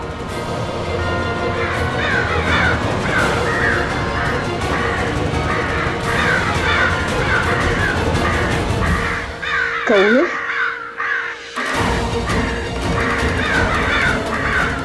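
Many crows cawing together in a loud, continuous chorus, with a brief lull and a lower voice-like call partway through.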